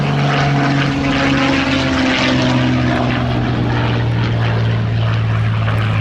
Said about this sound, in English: Love the sound of that engine, the Rolls-Royce Merlin 66, which Peter Monk sourced